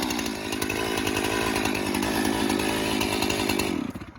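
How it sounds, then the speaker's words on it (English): A chainsaw set to half choke, its chain brake engaged, is pulled and catches, running loud and steady near the mic for several seconds with a rough, sputtering engine note before cutting off abruptly. "The chain brake was on, so you didn't see the chain spin, but you could hear that it was trying."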